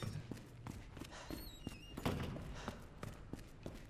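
Mr. X stomps in Resident Evil 2 Remake, heavy dull thumps of footsteps landing at a steady plodding pace amid low game ambience and a few faint electronic tones.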